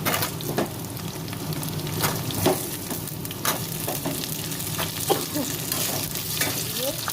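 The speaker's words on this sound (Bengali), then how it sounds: "পেঁয়াজ কুচি দিয়ে দিয়েছি, একটু লাল লাল করে ভেজে নেবো।" Diced potatoes fry with chopped onion in hot oil for a cabbage curry, giving a continuous close sizzle with intermittent spoon scrapes and clinks spread across the stretch, no one talking.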